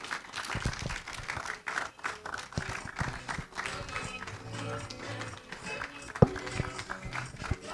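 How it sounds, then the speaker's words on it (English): Scattered clapping from a conference audience, uneven and lively, with a sharp knock partway through and some background voices. "Please keep clapping."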